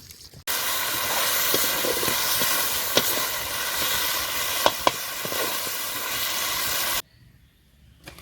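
Pallipalayam chicken curry simmers in water over a low flame, a steady close hiss and sizzle with occasional small pops and clinks, then cutting off abruptly near the end.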